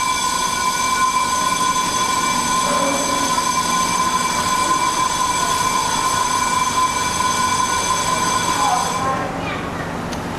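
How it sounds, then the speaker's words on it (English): MBTA train at Oak Grove station in Boston sounds a steady ringing bell tone over the loud rumble and squeal of the train, continuous and close, easing off near the end. "interesting bell noise"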